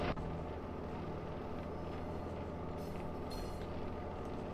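Train running in Train Mechanic Simulator 2017, a steady rumbling rail noise that holds loud and continuous throughout with no talk.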